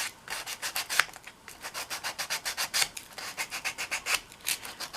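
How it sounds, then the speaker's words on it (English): A doll is sanded by hand with 180-grit sandpaper in quick, steady back-and-forth strokes. The close, dry scratchy rubbing repeats rhythmically about five times a second, with no voices. "you just take your sandpaper. This is Grit 180."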